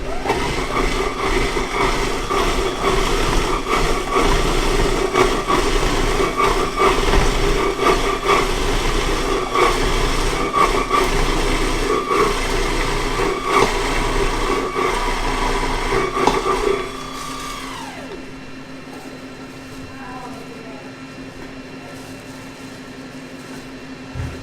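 A Goodnature X-1 Mini juicer's grinder grinds chopped carrots in a loud, steady mechanical roar with busy rattling. After about 17 seconds it drops to a quieter, even motor hum that continues to the end.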